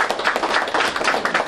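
A crowd at a Telangana dairy launch event breaks into steady, dense applause, many hands clapping continuously and loudly, with no voices over it.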